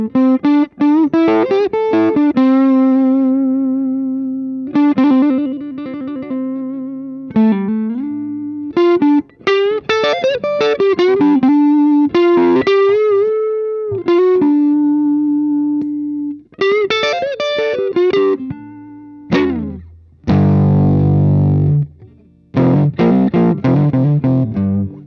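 A PRS semi-hollow electric guitar on an amp's lead channel with a tweed-like tone plays a lead line on the neck pickup, with sustained bent notes, fast phrases, short gaps and a slightly overdriven, reverberant edge.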